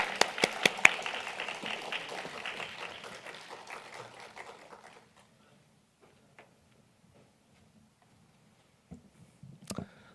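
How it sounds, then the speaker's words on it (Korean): Crowd applause welcomes a pastor at a Sunday church service, loud at first and fading out over about five seconds into near silence, with a few faint taps and a brief burst of noise at the end. "우리 목사님 나오시면 우리 크게 환영의 박수 하겠습니다."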